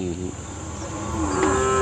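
Cattle lowing at a village native-breed cattle market in Palayakottai. Two drawn-out moos, one at the start and a louder one near the end, sit over a background hum of crickets, and no one speaks.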